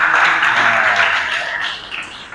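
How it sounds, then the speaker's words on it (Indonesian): A classroom of students gives a short burst of clapping that is loudest at the start and fades over a couple of seconds. "Tepuk tangan yang meriah, teman-teman"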